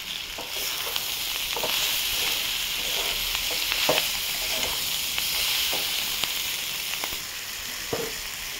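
Potatoes and onions with spices stir-fry in a pan, a steady soft sizzle broken by repeated scrapes and clacks of stirring, with no talk.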